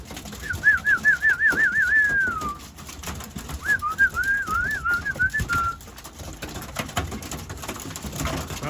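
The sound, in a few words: young racing pigeons at a new aviary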